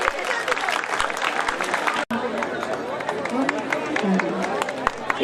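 A crowd at a village event in Maujgarh, India, applauds steadily, scattered claps blending into continuous clapping with murmuring voices underneath.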